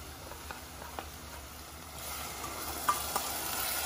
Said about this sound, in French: Juste mélanger.